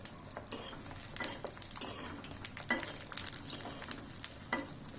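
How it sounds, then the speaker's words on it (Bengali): A small puri fries in a little oil in a small wok, with a continuous crackling sizzle broken by repeated scraping stirs of a utensil against the pan, close and clear with no talking. "আমি আর একটা পুরি ভেজেও দেখিয়ে দিচ্ছি"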